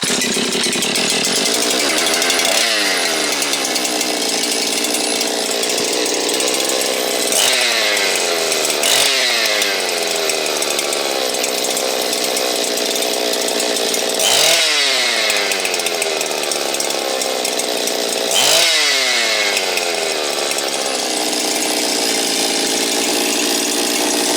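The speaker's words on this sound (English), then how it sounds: "we got a running saw" A Husqvarna 365 chainsaw engine, newly reassembled and on its first startup, runs loudly and continuously nearby, its pitch rising and falling in several revving surges.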